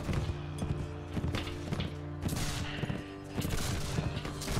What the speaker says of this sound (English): There's so many bullets flying about that.